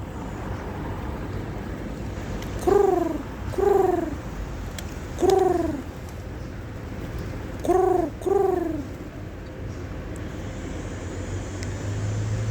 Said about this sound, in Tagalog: Enjoyin nyo lang yung panonood ng ating mga kalapate.